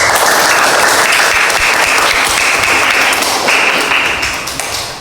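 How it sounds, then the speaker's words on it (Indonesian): Dense, steady applause from a classroom audience after a group presentation during a teacher performance exam, loud and continuous before tapering slightly near the end. "Tepuk tangan untuk kelompok 1."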